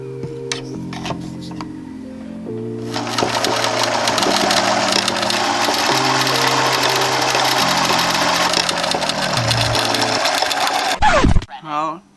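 A sewing machine winds a bobbin with a steady, fast, high whir lasting several seconds over a tonal background, then stops abruptly.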